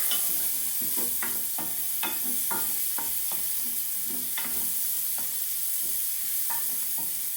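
Mushrooms and onions fry in the same pan used for veal, a steady sizzle broken by repeated scraping and tapping strokes of a utensil stirring them, close up and with no talking.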